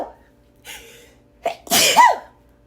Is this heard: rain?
no